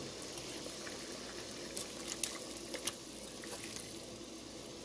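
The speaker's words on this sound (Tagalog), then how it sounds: "kumulo na yung tubig natin" Water bubbling at a boil in a pot for chicken rice, a soft, steady hiss and churn with a few brief bubbling pops, faint and without voices.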